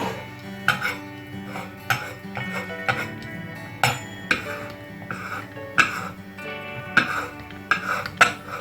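Fried Nigerian chin chin, a crunchy flour snack, lifted from a frying pan with a metal utensil, giving regular sharp clinks and scrapes against the pan roughly once a second over faint sizzling.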